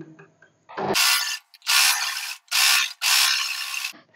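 A sewing machine runs in four loud, close bursts of stitching, double-stitching the curved cups of a katori blouse, with short pauses between each run and a faint clunk as it starts.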